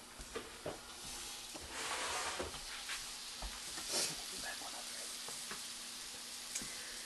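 French toast slices frying on a hot griddle give a faint, soft sizzle with light clicks and scrapes as pieces are set down, steady and low in the background.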